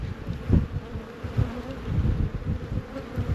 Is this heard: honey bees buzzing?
yes